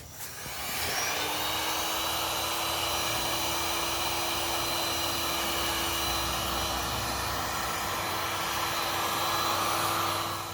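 A heat gun or hot-air tool blows steadily while warming the wheel hub of a BMW K1600 GT motorcycle to free its bearings, a loud continuous whooshing roar with a constant whine that starts abruptly and runs unbroken.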